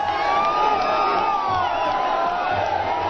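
Large outdoor crowd at a Prime Minister's election rally in Karnataka, cheering and shouting continuously and loudly, a dense sustained roar of many voices with whoops throughout.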